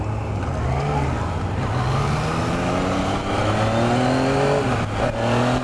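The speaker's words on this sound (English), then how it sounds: "I gotta ease on the throttle because I will fucking wheelie on this turn." Engine of a 2015 Yamaha FZ-09 motorcycle revving hard under throttle on a ride, loud and close, pitch climbing and falling steadily through repeated surges with wind rush.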